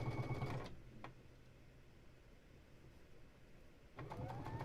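A sewing machine stitches rows of a quilt block together, whirring loudly in short bursts at the start and end with a quieter gap between, close by and with no talking.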